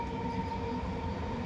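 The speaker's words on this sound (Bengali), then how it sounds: "ট্রেন ঢুকে গিয়েছে" A passenger train pulling in alongside a railway track, a steady loud rumble of wheels and cars with a sustained tone running through the whole stretch, no voices.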